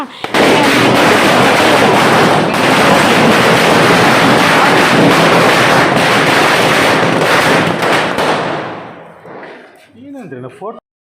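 Dense Diwali chit-pat firecrackers crackle and pop without pause for about eight seconds, loud and close, then die away as a voice speaks briefly at the end.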